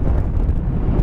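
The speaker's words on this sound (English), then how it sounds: "I've reached the top and it's incredibly windy" Strong wind roars and buffets against the microphone in a constant, heavy rumble with no voices, on a hilltop above Chesil Beach, Dorset.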